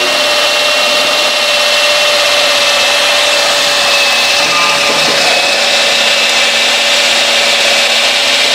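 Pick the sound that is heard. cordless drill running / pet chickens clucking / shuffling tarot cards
cordless drill running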